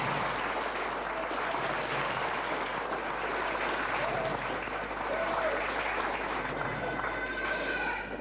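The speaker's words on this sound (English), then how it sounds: "I think both the parents and the teachers deserve a round of applause" An audience at a homecoming victory celebration claps steadily throughout, a dense, even crackle of many hands, somewhat distant and moderately loud with no clear breaks.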